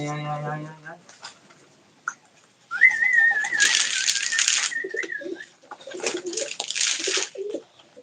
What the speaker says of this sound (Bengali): সব পায়রা এখানে রয়েছে